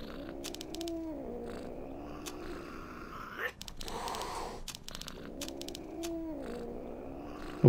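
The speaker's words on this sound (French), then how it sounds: "Comment le bouger ce chat?" Cat purring inside a PlayStation 4 adventure game, a steady continuous rumble that holds under the soundtrack, with one brief break midway before the purr resumes.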